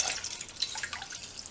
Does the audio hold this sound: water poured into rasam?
yes